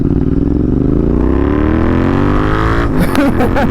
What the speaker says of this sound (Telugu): సో ఎగ్జాస్ట్ అయితే ఒకసారి వినండి. ఎగ్జాస్ట్ అయితే మాత్రం చాలా లౌడ్ వస్తుంది.